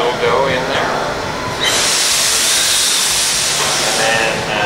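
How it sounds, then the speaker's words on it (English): Steam hisses into a bread oven while ciabatta bakes, a loud, steady broadband rush that surges in sharply partway through and holds near and continuous, with a faint mechanical rumble beneath. "we're going to go ahead and steam the oven just to provide a little bit of humidity"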